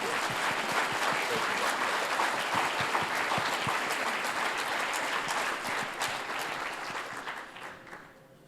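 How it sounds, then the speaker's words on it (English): Sustained applause from a conference audience for a panel of speakers, dense steady clapping that continues for several seconds and then tapers off and fades toward the end. "But let's give our panelists one more round of applause for being"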